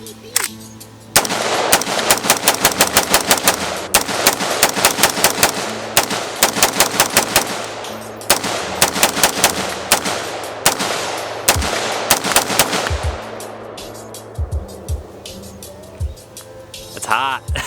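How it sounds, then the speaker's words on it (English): A Windham Weaponry AR-15 rifle fires on a private range in long, rapid strings of loud, close, cracking shots. Short pauses separate the strings, and the shooting thins to a few scattered rounds toward the end. "I'm just gonna put 40 more rounds down and then hopefully call it quits for the day."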